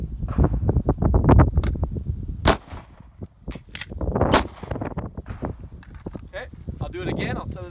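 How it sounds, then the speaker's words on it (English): Handgun shots ring out sharply at an outdoor shooting range during a reload drill, a few loud cracks separated by pauses with rustling and metallic handling sounds in between, close and loud. "I'm gonna come up, shoot one, the gun's gonna lock out of battery and go empty"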